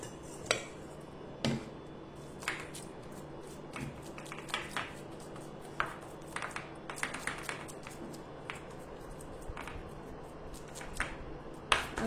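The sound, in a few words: patting mixture evenly onto an oiled plate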